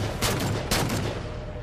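In Halo 4 gameplay, two sharp bursts of gunfire crack out close together over constant background noise, with no talking.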